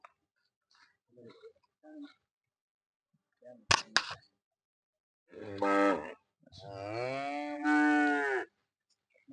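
Cattle brought to a parish church blessing moo loudly in two long, harmonic calls near the end, after scattered quieter sounds and a sharp knock, with no talk over them.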